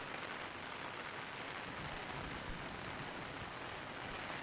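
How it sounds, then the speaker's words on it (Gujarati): Heavy afternoon rain pouring down over Khirasara village near Rajkot, a dense, even hiss of falling water that holds steady throughout with no talk. "તો રાજકોટના ખીરસરામાં ધોધમાર વરસાદ વરસ્યો"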